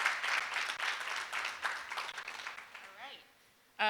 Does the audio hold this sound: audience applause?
yes